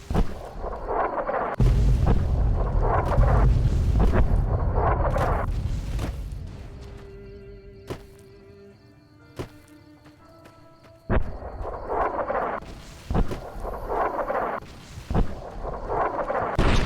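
Artillery booms in the game Fallout New Vegas, heavy, rumbling blasts that fill the opening seconds, a quieter lull with scattered thuds and faint tones, then more impacts and crashing blasts returning.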